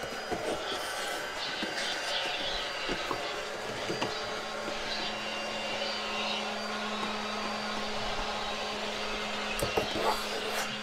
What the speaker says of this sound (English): this area with this vacuum, and it's actually pretty good. So we'll turn it on.